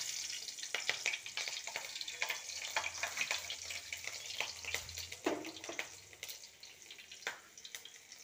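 Green chillies sputter and crackle in hot oil, with a steady close sizzle broken by sharp, irregular pops, plus a short burst of louder spitting about midway.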